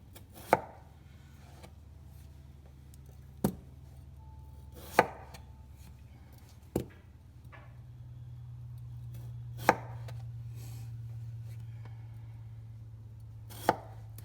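A knife cutting a vegetable on a cutting board to make a flat side and square it off, sparse single sharp chops spaced a few seconds apart, close and crisp over a faint low hum.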